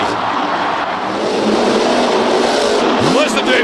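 Monster truck engine revving hard at a Monster Jam show, a loud continuous roar with a rising whine near the end, crowd noise and an announcer's voice over it.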